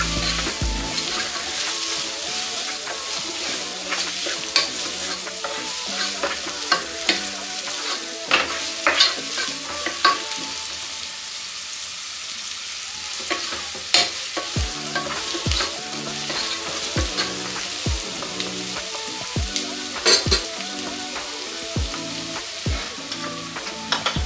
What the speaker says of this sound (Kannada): ಗೋಲ್ಡನ್ ಬ್ರೌನ್ ಆಗೋ ತನಕ ಇದನ್ನು ಇದೇ ರೀತಿ ಎಣ್ಣೆನೊಳಗೆ ಫ್ರೈ ಮಾಡ್ಕೊಳ್ಳೋಣ